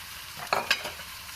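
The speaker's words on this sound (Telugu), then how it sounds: "ఈ మటన్ నేను ఇప్పుడు కర్రీలో వేసి కలుపుతున్నాను." A spoon stirs pieces of mutton into a frying curry, giving two or three short scraping strokes over a soft background sizzle. The sounds are close and fairly quiet, with no talking.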